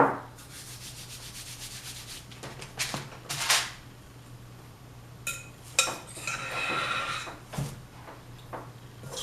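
Biscuit dough is scraped out of a bowl in soft, intermittent rubbing and scraping strokes, with a few light clinks of a utensil against the bowl, close by and fairly quiet.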